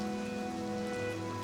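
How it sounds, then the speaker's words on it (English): Steady rain patters across the world of the game Oblivion Remastered, a soft continuous wash of falling drops beneath faint tonal music, with no voices. "I feel like it's been raining a whole lot in my game"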